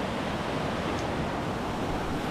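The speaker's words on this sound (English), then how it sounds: "And that is quite a torrent of rain through there" Heavy rain mixed with rushing river water on a rainy hike, a dense, steady roar that fills the whole moment without voices.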